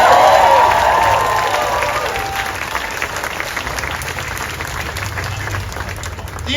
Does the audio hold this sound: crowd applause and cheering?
yes